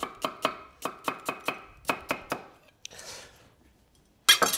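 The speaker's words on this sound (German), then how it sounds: "den Rest des Spargels, den schneide ich mir einfach auf solche Stücke runter" Asparagus is chopped into pieces with a knife on a cutting board, about a dozen crisp, evenly spaced close knocks, then a short rustle, a pause and a final quick flurry of cuts.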